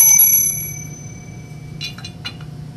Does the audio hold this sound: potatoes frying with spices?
no